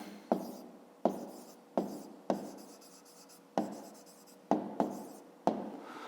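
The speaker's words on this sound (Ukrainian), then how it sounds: "Пишемо відповідь." Pen strokes scratch across a school math notebook in a series of short, distinct scribbles separated by brief pauses, close and quiet, with no voices.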